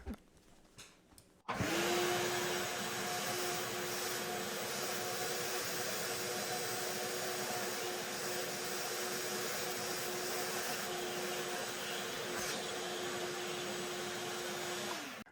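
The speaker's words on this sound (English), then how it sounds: "let's open the lid and see if we capture some dust or if everything went into the vacuum" Vacuum cleaner drawing through a DIY dust cyclone: after a few soft handling knocks, the motor starts and holds a loud, steady whining roar for the rest of the clip, with no talking.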